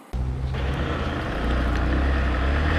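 A 2021 Bajaj Platina 110 ComForTec motorcycle starts off on a test ride, its engine droning steadily and building slightly, with wind rushing across the microphone.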